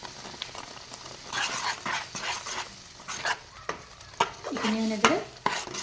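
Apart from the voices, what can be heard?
stirring spices in frying pan for egg curry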